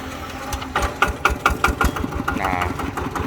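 An engine idles close by with a quick, lumpy rhythmic putter, steady and moderately loud throughout.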